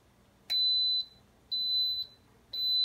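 An Instant Pot electric pressure cooker gives three evenly spaced, clear high-pitched beeps, each about half a second long, loud and alone in a quiet kitchen.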